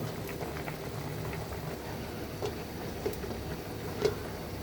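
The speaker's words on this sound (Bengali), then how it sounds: "এই যে আমগুলো সিদ্ধ হচ্ছে" Unpeeled mangoes simmer in salted turmeric water in a pot, a steady, soft bubbling and hissing with occasional louder pops, close and continuous throughout.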